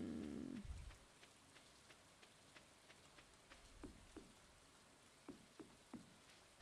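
Light rain in the Stardew Valley video game, a soft steady patter with scattered drop ticks, faint and continuous after a brief louder sound at the start, with no speech.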